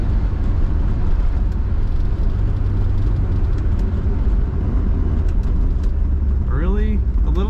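A 1966 Chevrolet Corvette convertible's engine gives a steady low rumble as it gathers speed on the road, with constant wind and road noise layered over the drone.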